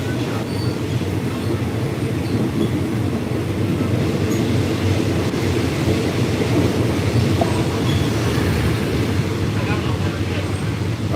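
A passenger train rolls from Bangkok to Ayutthaya, Thailand, with a continuous loud low rumble of wheels and carriage, steady throughout and heard from inside the car.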